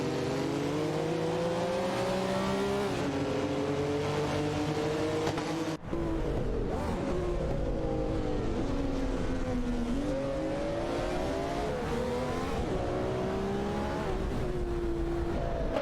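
Race car engines in an AI racing video game, with several cars whining and revving together as they battle for position, a sharp gear shift cutting in briefly, and the tones rising and falling without pause.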